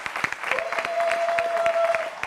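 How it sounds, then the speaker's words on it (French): A studio audience applauding loudly, steady sharp claps throughout a short stretch, with a sustained tone running under them. "je pense que vous êtes encore à applaudir très fort"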